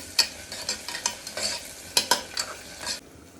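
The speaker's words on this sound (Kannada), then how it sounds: "ಜಿಂಜರ್ ಗಾರ್ಲಿಕ್ ಪೇಸ್ಟ್ ಹಾಕ್ತಾ ಇದ್ದೀನಿ. ಮಿಕ್ಸ್ ಮಾಡ್ಕೊಳ್ಳೋಣ." Ginger garlic paste being stirred into chicken biryani in a pressure cooker: a series of close scraping strokes and clinks in an uneven rhythm over a soft sizzle, alone without talk.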